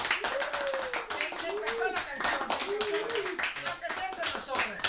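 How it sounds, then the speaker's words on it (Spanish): A studio audience claps for Sebastián, a guest on a Mexican TV and radio interview program, with steady broadband clapping running the full length under overlapping speech and tonal voices. "Otro aplauso para Sebastián."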